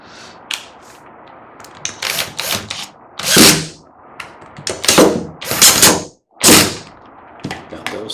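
Screws being tightened while a coolant proportioning pump is assembled from a repair kit: loud, close clacks and ratcheting bursts with uneven gaps, some short and sharp, others longer grinding runs.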